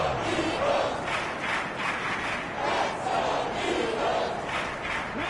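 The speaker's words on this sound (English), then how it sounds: "the crowd getting into it as we come up on a big 3rd down" Stadium crowd noise from a PS4 American football game, a sustained roar of cheering that swells in waves ahead of a big third down, steady and fairly loud throughout.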